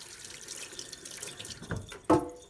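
Warm tap water runs into a sink for mixing into a grainy mixture, a steady close hiss of flowing water that swells with a brief louder splash near the end.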